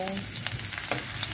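Onions sizzle in hot cooking oil in a pan, a close, continuous frying hiss with small crackles and a light scrape of stirring.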